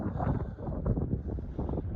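Wind buffets a microphone at a trailhead in the Highwood valley of the Rockies, a low, rumbling roar that swells and dips across a couple of seconds with no voices.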